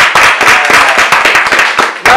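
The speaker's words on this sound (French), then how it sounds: "Applaudissez, applaudissez, applaudissez" Comedy show audience clapping, a loud close burst of brisk, dense hand claps lasting about two seconds with a few sharp accents.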